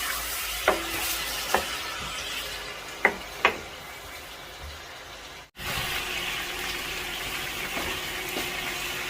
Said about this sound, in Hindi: तो सबसे पहले घी के अंदर मैं डाल दूंगा चिकन।